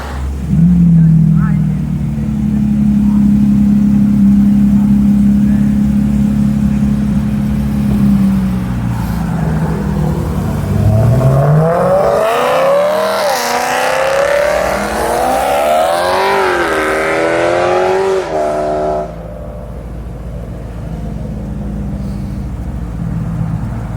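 A BMW M5 engine revs on a track skid pad, a steady drone giving way to rising and falling roars as it accelerates through several gear changes, loud and close, with voices talking over parts of it.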